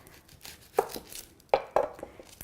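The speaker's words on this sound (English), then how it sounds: "make a cut in the onion. So start by cutting this end first." A knife cutting through an onion on a board, giving three distinct crisp chopping thuds close up with light crackling between them and no talking.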